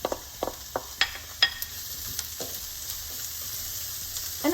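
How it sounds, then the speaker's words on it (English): Diced onion frying in a pan, with a soft, steady sizzle broken by a few sharp clicks and stirring taps, close and fairly quiet. "Into the pan, add your"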